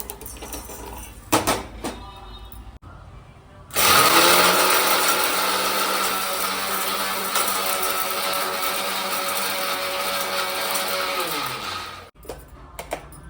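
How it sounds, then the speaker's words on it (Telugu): A mixer grinder (mixie) whirs loudly and steadily for about eight seconds as it grinds cinnamon, cloves, shahjeera, cardamom and peanuts into powder, then stops abruptly. Brief clattering comes before and after. "మిక్సీ పట్టు."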